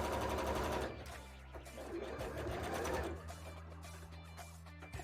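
A sewing machine stitches fabric for a handmade rainbow bra, a loud steady mechanical whir with a rapid needle rhythm running close and continuous, easing slightly in the middle before resuming.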